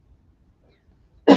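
Single short cough bursting out near the end after near silence, close and fairly loud.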